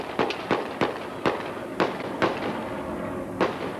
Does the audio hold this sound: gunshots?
yes